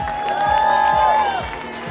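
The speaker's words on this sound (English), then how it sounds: "Let's give him a big round of applause anyways, right?" An audience at a Milwaukee Wave 30th anniversary dinner bursts into brief applause and cheering, a dense burst of clapping rising and fading within a couple of seconds, while a voice speaks over it.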